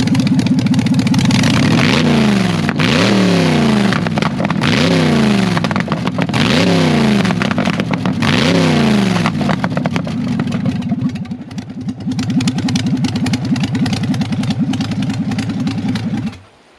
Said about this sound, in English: Make some noise with it. That's why we love zoomy pipes.